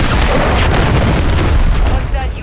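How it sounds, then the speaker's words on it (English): A cruise missile explodes in a military shooter video game, a loud continuous booming rumble that fills the whole moment, with in-game voice chatter over it. "Hostiles launched a cruise missile."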